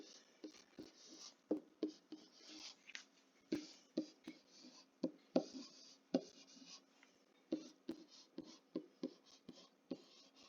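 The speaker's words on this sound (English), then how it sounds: "Let's write them all down together" Pen or pencil writes numbers by hand on paper, a close, quiet series of short scratching strokes in irregular bursts with brief gaps between digits.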